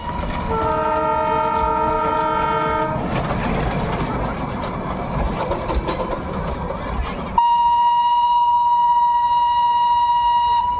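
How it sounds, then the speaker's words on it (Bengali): A steam locomotive train near Darjeeling sounds a sustained, harmonic whistle twice, once at the start and again near the end, with a broad rumbling rail noise between the blasts and no talking. "স্ট্রিম ইঞ্জিন এটা, বুঝতে পারলি?"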